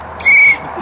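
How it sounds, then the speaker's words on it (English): A referee-style whistle is blown once, a loud steady tone of about a quarter second rising over background chatter at a chicken-themed eggnog chugging contest. "Blowing the whistle."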